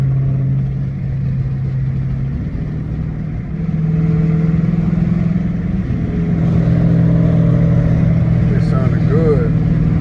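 Catless Dodge Challenger RT V8 engine revving while driving in traffic, a loud continuous low rumble that swells and climbs in pitch as it accelerates, with wind noise and a person talking over it.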